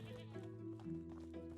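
A sheep in the medieval village-life video game Medieval Dynasty bleats nearby, a drawn-out wavering call that shifts pitch partway through and is heard clearly on its own.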